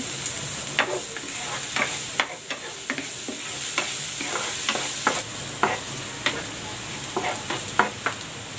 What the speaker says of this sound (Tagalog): Ilagay ko na rin tong bawang.